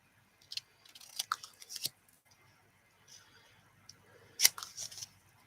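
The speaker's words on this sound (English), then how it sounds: "So let's get a tree cut out." Scissors snip out a paper Christmas tree in short, quiet, close cuts, a cluster early on and another burst near the end with pauses between.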